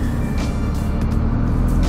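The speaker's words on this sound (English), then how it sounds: "Oh man, I love the sound of this engine." A BMW R 1250 GS twin-cylinder motorcycle engine runs steadily at close range, a low, throbbing idle-to-mid rev drone with no talk.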